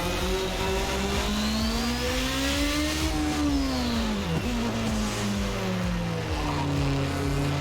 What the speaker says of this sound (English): Trying to keep it on the revs so the turbo doesn't lack off.